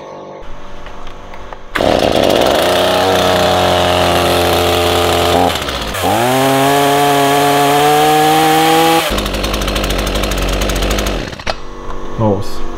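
A STIHL MS 162 chainsaw is started, then its two-stroke engine idles and revs loudly and close up in steady bursts, dropping briefly before revving hard again and cutting off near the end.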